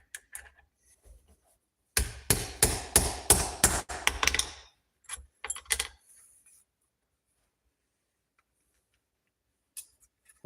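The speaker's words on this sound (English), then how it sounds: "Just hammer a rivet in it." A hammer drives a rivet into a knife handle: a quick series of about eight sharp metallic taps, then a few scattered lighter knocks, followed by near silence.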